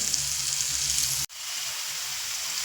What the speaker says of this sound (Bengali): মিডিয়াম ফ্লেম করে আলুটা ভেজে নেব